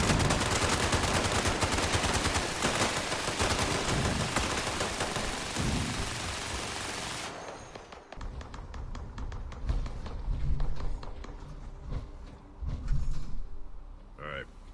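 Dense, continuous gunfire fills a Fallout 76 firefight, loud and steady for several seconds before easing into scattered, rapid shots and clatter; voices are faintly present underneath.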